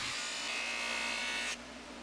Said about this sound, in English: So I'm going to go over to the buffing wheel